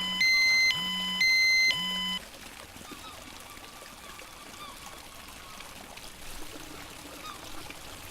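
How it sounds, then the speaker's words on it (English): A RadEye radiation detector sounds its first-level alarm: three loud, even electronic beeps at a slow steady pace, followed by a faint trickling background with no further beeps. "The first alarm will result in the RadEye LED blinking slowly and sounding like this."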